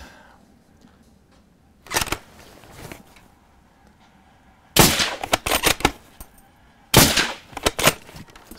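Loud, sharp rifle shots fired outdoors at a target board, a single crack followed by two quick bursts of several close reports each, with quiet pauses between.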